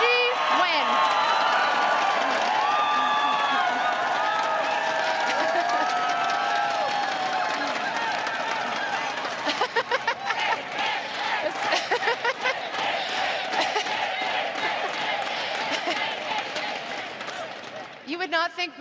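A large crowd at the 2020 Ontario Liberal leadership convention cheers, whoops and applauds loudly, the roar of voices giving way to sustained clapping that slowly fades.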